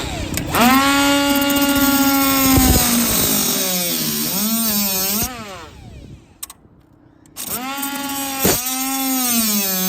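A power tool trimming off nails from a cherry picker, with a loud close motor whine that rises and falls in pitch through several cuts and pauses briefly in between.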